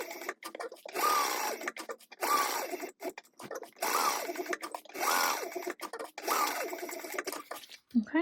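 A sewing machine stitches an eighth of an inch from the raw edges of a Victoria wristlet. The close, rapid whirring comes in short runs of about a second with brief stops between them, and there is no talk.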